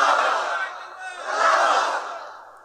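A large crowd at a religious gathering shouts a takbir in unison, two loud swelling roars of many voices in quick succession that fade away at the end.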